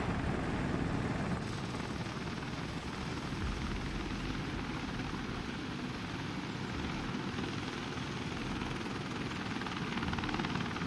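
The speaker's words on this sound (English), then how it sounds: "I see a heli coming in over there." A helicopter flies in during Wardogs military gameplay, its dense, steady rotor and engine roar filling the scene evenly and loudly from start to finish.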